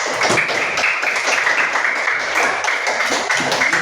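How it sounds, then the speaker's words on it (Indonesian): A group in a school coaching session applauds group 1: a steady, dense wash of many hands clapping at once, loud and close, lasting the full few seconds without a break. "Jadi kita kasih tepuk tangan untuk kelompok 1."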